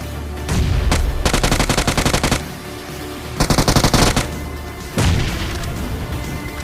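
Automatic gunfire from a battle royale video game, heard as three loud, rapid bursts separated by short gaps, each ending in a deep boom or echo.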